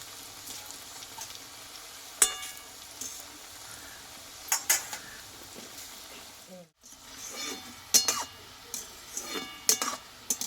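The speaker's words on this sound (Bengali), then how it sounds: "এবারে যেহেতু অনেকটা পরিমাণে তেল দিয়ে আছে তাই আমি এইগুলোকে আমি তিনবারে ভেজে নেব" Bengali puli fry in a generous amount of oil with a low, steady bubbling sizzle, punctuated by scattered sharp clicks and utensil knocks, with a brief dropout partway through.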